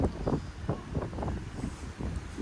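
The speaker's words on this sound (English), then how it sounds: "it's windy, so it's cold" Strong wind on the deck of a moving cruise ship at sea buffets and roars across the microphone in uneven gusts, with a low rushing hum underneath.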